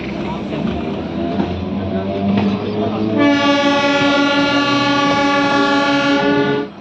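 A passenger train runs on the line from Barddhaman into Balgona station with a steady rumble. Halfway through, a loud sustained horn blast sounds and holds for several seconds, then cuts off.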